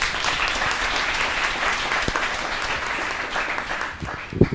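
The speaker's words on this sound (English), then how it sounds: "So let's give a round of applause to our panelists." An audience at a social enterprise panel event applauds the panelists with steady, dense clapping that fills the room, tapering slightly near the end with a few isolated claps.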